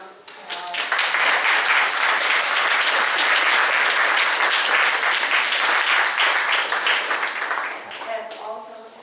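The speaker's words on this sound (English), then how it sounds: "give our artists a round of applause" An audience applauds the artists at a main-gallery exhibition event, a dense, sustained wash of many hands clapping that holds steady for about eight seconds before thinning out.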